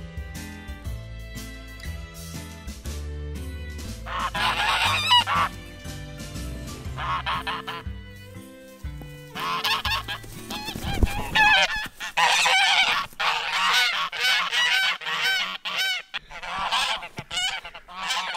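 Flock of farm guard geese honking repeatedly and loudly at close range, a busy overlapping chorus of harsh calls with brief lulls, no talking.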